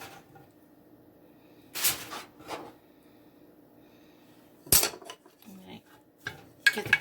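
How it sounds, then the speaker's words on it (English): Broccoli tipped into a pan of already cooked potatoes for a cheesy bake, a few scattered clatters and scrapes of utensil against cookware, close and intermittent, with quiet stretches between them. "Add the broccoli."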